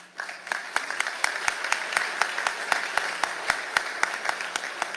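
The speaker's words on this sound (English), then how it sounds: "The double clap is always so nice." At a Pacific Fleet change of command ceremony, the audience claps in unison, a crisp, regular beat of sharp synchronized claps repeating steadily over a softer bed of scattered applause.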